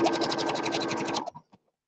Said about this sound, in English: we'll just run a second stitch along the whole thing